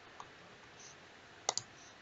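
A computer mouse clicks on elements in design software: one faint click, a pause, then two quick close clicks, all soft against a quiet room.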